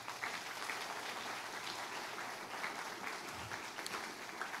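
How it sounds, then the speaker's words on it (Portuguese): A church congregation applauds during a sermon, dense steady clapping filling the whole stretch at moderate loudness with no voices standing out. "Aplauda os dois para mim aqui"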